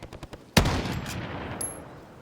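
A lever-action rifle fires in a zombie video game, with a few soft taps and then a single sharp loud shot whose echo rings out and decays over the next second and a half.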